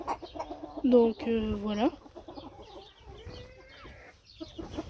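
Backyard hens clucking in a short run of rising, tonal calls near the start, with someone talking over and after them.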